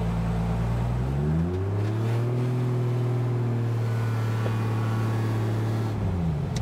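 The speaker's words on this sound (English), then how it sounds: "The engine's making manual noises." A drift car's engine with an automatic eight-speed gearbox revs hard and loud, rising and holding a strained drone before dropping away at the end, alone with no talk.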